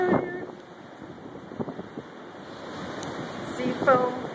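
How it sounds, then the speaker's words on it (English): Strong hurricane wind roars and buffets the microphone on the beach at Kill Devil Hills, North Carolina, during Hurricane Irene, a steady gusting rush with a few short bursts over it. "Sea foam blowing in the wind."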